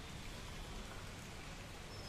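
Heavy monsoon rain pours over flooded crop fields, a steady, dense hiss of falling water that stays faint and unbroken, with no voices.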